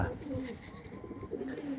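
Pigeons coo softly in low, repeated throaty calls, close by, over a faint background hum.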